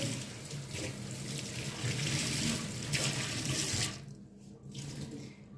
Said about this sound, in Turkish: Şimdi bir kere daha durulayacağım